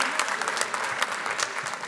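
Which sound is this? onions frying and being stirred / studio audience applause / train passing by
studio audience applause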